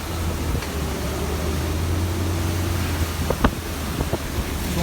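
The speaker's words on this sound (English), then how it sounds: "I guess I can roll down the window now. The wind's coming in from the other side." Hurricane Florence wind rushes through an open car window near Topsail Island, North Carolina, giving a steady roaring buffet over a low engine hum, with a few sharp gust thumps toward the end.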